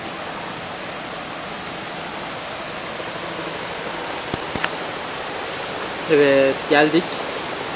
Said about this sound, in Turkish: Dünyanın en geniş şelalesi